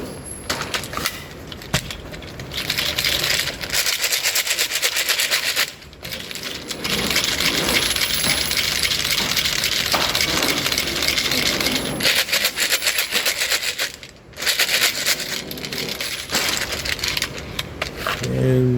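Rounds clicking and clattering as cartridges are pressed into rifle magazines with a mag loader in cold weather, a steady close run of metallic ticks and rattles broken by short pauses.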